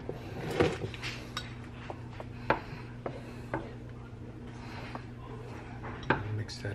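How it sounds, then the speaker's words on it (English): Spoon scraping and clinking against a bowl while seasoned food with granulated onion is mixed and starts to thicken, scattered close taps and scrapes over a low steady kitchen hum. "Mix that up a little bit before I add the next step."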